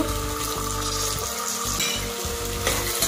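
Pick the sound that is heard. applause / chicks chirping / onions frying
onions frying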